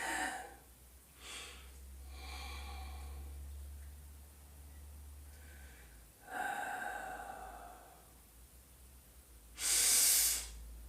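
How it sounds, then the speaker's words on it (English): Slow, deep breaths drawn in through the nose during a seated circulation and blood pressure exercise routine, several soft rushing inhales spaced across the stretch, with one louder, hissing breath near the end and no talking. "Deep breaths in through the nose, nasal breathing."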